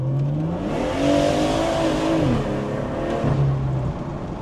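BMW M140i with roughly 700 Nm tune, engine revving steadily with rising and falling harmonic tones, loud and close, continuous throughout without talk; exhaust pops not distinct.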